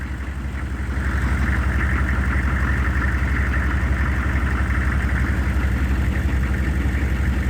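An old 6.5 liter engine idles steadily in a shop, a close, continuous low rumble with a faint rhythmic knock, running alone without a break.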